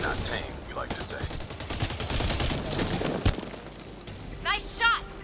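Rapid gunfire in a video game, a dense burst of repeated shots with one sharp loud crack near the end, under a game character's voice.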